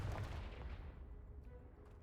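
A Confringo blasting spell from the Hogwarts Legacy game sets off a booming explosion at the start, then fades into a low rumbling tail.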